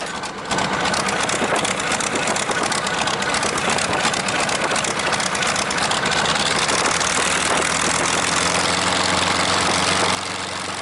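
A P-40N Kittyhawk's big V-12 aero engine runs at low idle, a steady, loud, close rumble with a constant throb that holds unbroken for about ten seconds.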